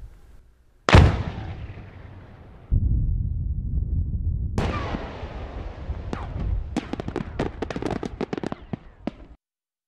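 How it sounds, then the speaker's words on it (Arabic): Several heavy detonations boom out, the first two long and rolling, then a rapid volley of sharp blasts crackling in the distance, set off by a Bahrain Defence Force field engineering unit. "تفجير تفجير تفجير"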